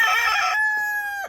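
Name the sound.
chicken clucking in coop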